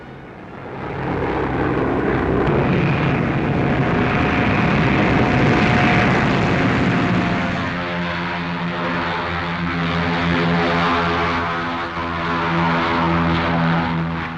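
Four-engine B-17 Flying Fortress bombers of the US 8th Army Air Force droning steadily with propeller roar, loud and close throughout with a sustained engine hum and no talk.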